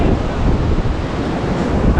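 Surf rolls in at Gopalpur beach on the Odisha coast, a steady roaring wash of waves with gusty wind noise over it, near and loud, with no talk.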